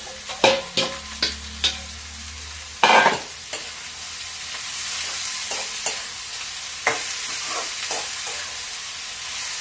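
Ridge gourd pieces dropped into a hot pan and stirred while frying, with a series of sharp spoon scrapes and clatters at first, then a steady sizzle and occasional stirring knocks throughout.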